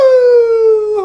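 Single sustained vocal wail imitating an ambulance siren, a steady tone sliding slowly downward, loud and close, breaking off sharply at the end.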